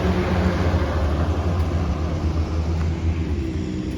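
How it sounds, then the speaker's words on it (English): A loud vehicle rumbles past close by on a small-town street in Bennington, New Hampshire, a steady low engine drone with broadband road noise filling the whole stretch, no voices. "And another noisy vehicle."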